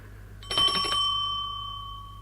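A service bell rung once to summon the butler in a live radio theatre performance, a bright metallic strike with a ringing tone that sustains and slowly fades, clear and alone.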